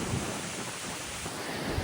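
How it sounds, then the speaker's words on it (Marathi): Water pouring down at Bhandardara waterfall, a loud, steady, unbroken roar close by with no voices. "हे बघा कसं पाणी चालू एकदम मस्त पैकी एकदम कडक वातावरण आहे"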